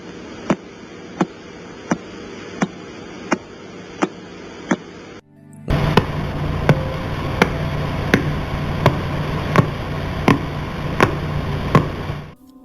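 Pulsar radio signals converted into sound give a regular, evenly spaced ticking pulse like repeated knocking, about one beat per second. The pulse sits over a steady static hiss that turns louder and denser halfway through.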